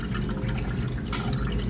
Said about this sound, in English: There's a little water fountain.